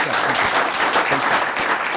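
Steady audience applause, many hands clapping densely and evenly throughout, fairly loud with no pauses.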